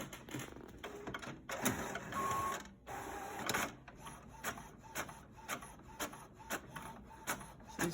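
A home printer printing candle product labels, with mechanical whirring and rhythmic feed clunks, a few longer motor runs, then a quicker series of pulses, moderately close and without talk.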